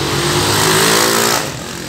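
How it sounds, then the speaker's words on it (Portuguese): A loud engine roars past close by, a motorcycle rising to a peak and then quickly dropping away within about two seconds. "São muitas motos do capeta."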